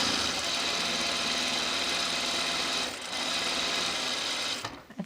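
Up close, a sewing machine edge stitches a dress in a continuous, fast, buzzing run with a slight rattly vibration, pausing briefly near the middle before stopping at the end.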